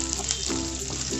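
Cloves, cinnamon, star anise and cardamom sautéing in hot oil in a pan: a continuous soft sizzle with faint stirring scrapes, close and fairly quiet, without talk.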